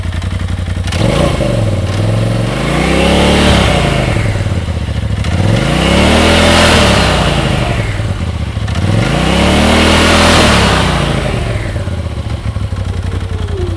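A UTV engine with a freshly replaced CVT drive belt revs in neutral, climbing and falling in three loud, close sweeps of throttle with a mechanical clatter underneath and no talk.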